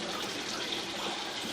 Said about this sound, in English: And there is quite a bit of water running.